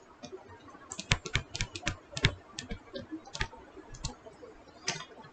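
Someone types on a computer keyboard, a quick irregular run of close, crisp key clicks with no talk.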